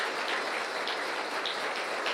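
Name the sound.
congregation applauding in church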